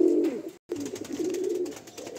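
Madrasi pigeons, a Fulsira pair, coo softly nearby in a few low, throaty rolling calls with a brief pause between them and no talking.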